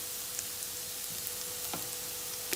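Onions fry in a pan over a low flame, giving a soft, continuous sizzle with occasional faint pops and a stir or two, quiet and close.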